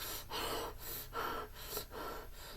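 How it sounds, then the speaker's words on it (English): A man breathes heavily and raggedly in a tense dramatic scene, four loud, strained gasping breaths in and out at an even pace, close and alone. "And the scream he lets out at the end, and that breathing"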